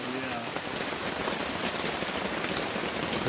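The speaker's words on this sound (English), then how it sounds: "It's starting to rain a little bit more." Constant rainfall patters on surfaces nearby in the Arizona backcountry, a thick steady hiss that holds throughout; a faint voice may be buried beneath.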